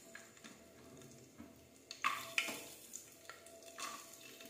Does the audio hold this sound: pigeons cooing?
no